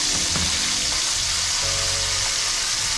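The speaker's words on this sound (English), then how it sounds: "Give them a little press down there in the oil." Fish fillets frying in hot oil, pressed down in the pan, giving a continuous close, loud sizzle and crackle with faint stirring or scraping underneath.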